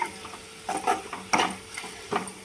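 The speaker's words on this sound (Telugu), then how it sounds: "ఇప్పుడు మనం దీన్ని మంచిగా కలుపుకుందాం." Raw banana curry being stirred in a pan, with several soft scraping strokes of a spoon against the metal in an irregular rhythm over a faint background.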